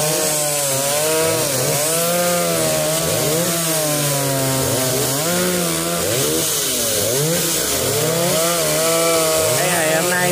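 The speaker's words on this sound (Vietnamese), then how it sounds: "Sẽ đẻo và cắt cái khúc gốc, cát rất là nhiều, cát gì đá" Chainsaw cutting into a tree stump on gritty, sandy ground after rain, its engine revving and dipping in repeated loud surges as the blade bites and eases off, steady and close throughout.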